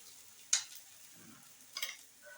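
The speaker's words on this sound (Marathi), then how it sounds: "हे बघा कडेने थोडंसं असं तूप सोडायचं आहे म्हणजे खरपूस असा भाजला जातो." Methi paratha frying in ghee on a hot griddle, giving faint low sizzling with two brief louder scraping bursts as it is handled.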